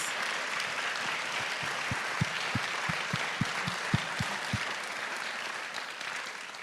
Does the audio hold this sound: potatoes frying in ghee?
no